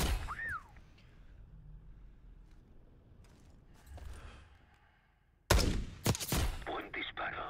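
In Call of Duty: Black Ops 6, a sudden burst of loud gunfire erupts after a stretch of quieter background rumble and scattered sounds, with sharp repeated shots in quick succession.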